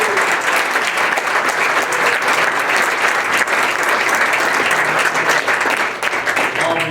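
A room of people applauding a retiring fire department member at a township trustees' meeting, dense sustained clapping that fills the whole stretch and dips slightly near the end.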